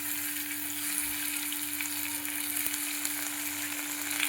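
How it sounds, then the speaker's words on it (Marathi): Okra and tomatoes fry in a pan with a continuous, even sizzle and a faint steady hum beneath, close by and without talk. "आपल्याला भेंडी फ्राय करायची"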